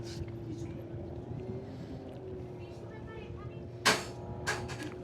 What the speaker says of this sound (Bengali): এই আমাদের হাউস বোট এগিয়ে চলেছে দেখুন, জল কেটে এগিয়ে চলেছে হাউস বোট।